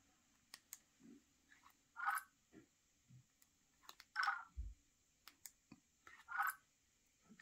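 Samsung Galaxy S23 Ultra S Pen removal sound in a spacey, synthetic style, a sequence of short chirps and clicks heard up close, several bright tonal blips spaced irregularly over a quiet background.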